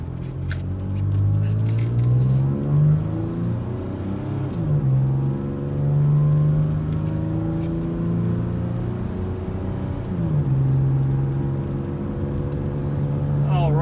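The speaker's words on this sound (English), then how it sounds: "Cruising nice and easy down the road here." A 2004 Nissan Xterra 4X4 driving on a road, its engine droning steadily and rising in pitch through gear changes as it accelerates, with road rumble throughout and no spoken words.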